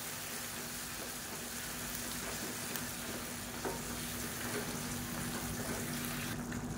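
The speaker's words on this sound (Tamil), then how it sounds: "சேர்த்துட்டு நல்லா கலந்து விட்டுக்கலாம்." Chopped cabbage and lentils stirred into onions frying in a pan, a soft constant sizzle with light scraping from the spoon, faint and steady throughout.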